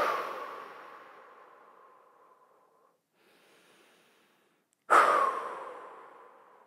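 Slow, deep breaths during a relaxation exercise, a long airy exhale fading out, a quiet pause and faint inhale, then another strong breath out, close and alone.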